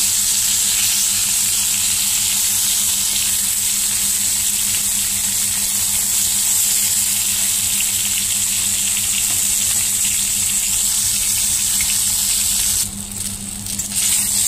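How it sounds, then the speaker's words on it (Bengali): Slices of eggplant fry in hot oil and are turned over, filling the clip with a loud, close, steady crackling sizzle that briefly dips near the end. "তো বেগুনগুলো দেখো আরেকদিকে আমি উল্টে দিলাম।"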